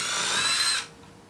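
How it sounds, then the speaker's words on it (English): Power drill whirring loudly into a rounded-off bolt on a Ford Focus during a lowering-spring install, a steady high-pitched grind for under a second before cutting off into quiet. "Right now, I've resorted to drilling the rounded off bolt"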